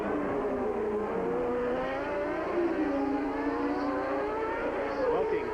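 Alain Prost's Ferrari Formula One car, smoking heavily, howls at speed during the 1990 United States Grand Prix, a steady high-pitched engine whine that sweeps in pitch under a commentator's voice.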